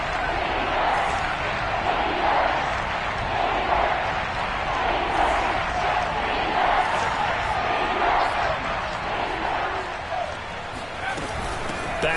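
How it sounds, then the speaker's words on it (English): Stadium crowd in an American football video game roars steadily before a big third down, a dense, continuous wash of cheering and noise that holds at an even level throughout without pause. "the crowd getting into it as we come up on a big 3rd down"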